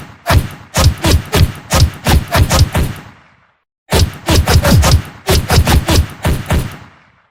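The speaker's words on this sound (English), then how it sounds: "I had to turn down my gunshot sound effect as it was drowning out the sound of the hit sound effect" A top-down arcade shooter built in Unity fires rapid bursts of gunshot effects mixed with punchy hit sounds. Two volleys of evenly spaced, loud thuds are split by a short silence, with no voices.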